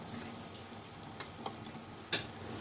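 Garam masala and spices sautéing in a pan for egg biryani, a faint, steady sizzle with a few soft stirring clicks, one sharper scrape near the end, quiet and without talk.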